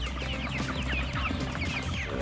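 Hercules breed chickens on a farm in Kharkiv region cluck and chirp continuously, many birds together in a dense, steady chorus at close range.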